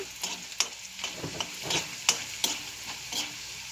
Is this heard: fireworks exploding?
no